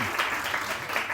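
Studio audience applause on a Pakistani morning talk show, a steady wash of clapping from a room full of women, moderately loud and continuous throughout.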